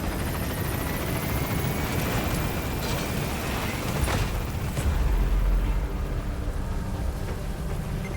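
A helicopter in the Metal Gear Solid V: The Phantom Pain video game climbs steadily after lifting off from a landing zone, its rotor roar continuous, loud and close throughout with no talk over it.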